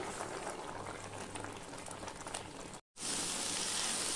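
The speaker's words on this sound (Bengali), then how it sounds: "এইবার এটাকে আমি অনবরত এইভাবে নাড়তে থাকবো" Saffron-soaked milk mixture for lychee sandesh bubbling in a pan while being stirred constantly, a faint dense crackle with a brief silent break before it resumes louder.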